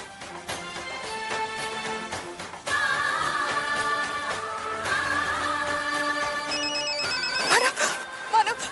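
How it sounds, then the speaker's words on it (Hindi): A telephone rings in a Hindi TV serial scene, a loud repeating electronic ringtone that carries on throughout, with a brief burst of other sound near the end. "अर्चना बार बार कॉल कर रही है"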